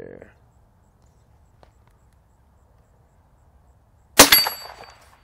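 A shotgun blast rings off a steel target outdoors, one sharp loud crack with a metallic clang that trails into a short ringing decay after a long quiet stretch.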